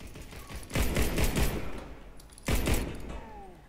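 Gunfire rattles in the online shooter Warface, two bursts of rapid automatic shots, the first around a second long and the second shorter, moderately loud over a quiet game ambience with no talk.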